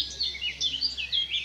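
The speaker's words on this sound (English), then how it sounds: "Just listen to the birds." Outdoor birds sing in repeated high, bright chirps and short trills, moderately loud and overlapping, with no voices.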